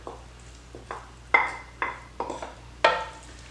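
Onion and jalapeno mixture is tipped into a Mexican tomato salad and stirred, making a series of light clinks and scrapes of utensil against bowl at an uneven rhythm, close and fairly quiet.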